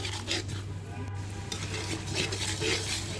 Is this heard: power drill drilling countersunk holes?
no